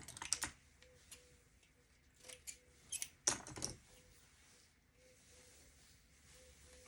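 Scissors snip through synthetic wig hair while thinning a Raquel Welch Scene Stealer wig, giving a few soft, close crisp clicks in small clusters over a quiet background.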